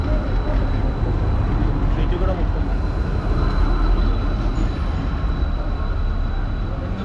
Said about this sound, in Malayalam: ഇതാണ് നമ്മൾ പറഞ്ഞ ട്രാംസ്.